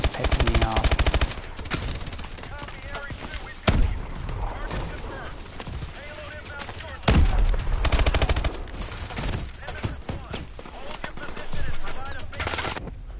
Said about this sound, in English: What the hell is shooting me from over there?